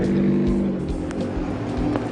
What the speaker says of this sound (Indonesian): Wir, cek motor gue dong, Wir